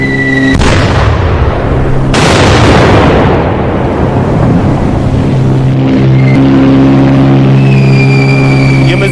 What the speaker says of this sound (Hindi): और ये अंदर आई और अंदर आई, देखिए, और अंदर आकर धमाका हुआ है।